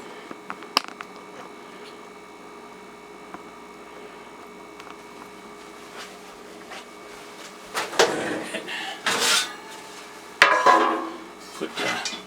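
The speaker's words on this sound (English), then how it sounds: "we just take the Dutch oven and we'll put it into the oven down here" A cast-iron Dutch oven is set down inside a kitchen oven for sourdough baking, giving a couple of close metallic clanks and scrapes near the end over a low steady hum.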